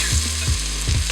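Sausage fries in a pot with a steady sizzle, broken by a few heavy low thumps from stirring or the pot shifting, close and fairly loud.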